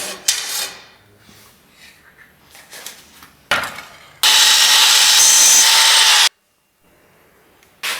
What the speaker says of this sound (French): découpe un profilé en T en aluminium